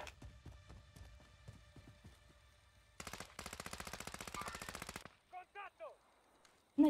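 Rapid bursts of automatic gunfire in the Warzone video game, a sustained volley of fast, evenly spaced shots that cuts off abruptly, preceded by quieter game sounds and low chatter.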